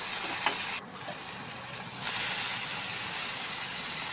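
Greens are stirred into a pan of frying dried fish and chopped onion, giving a loud continuous hiss and sizzle with a sharp scrape near the start and a brief dip before the hiss swells again.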